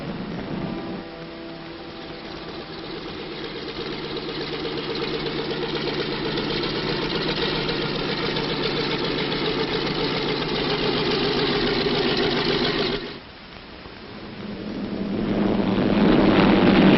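Engines of a B-26 bomber drone continuously with a steady, rough throb, dipping briefly near the end before swelling louder again, with no voices.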